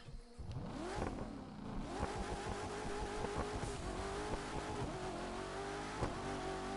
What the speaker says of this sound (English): Corvette C7 ZR1. This is a cool car.